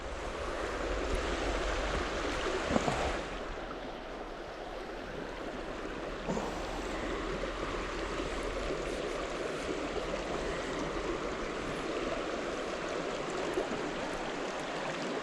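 Stream water at Hardcastle Crags rushing past stepping stones, a continuous broad wash of flowing water heard from close by at the water's edge, with a touch of wind.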